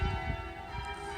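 Bells ring from the towers of Lincoln Cathedral, a steady wash of sustained, overlapping metallic tones that carries on without a break and without any voices.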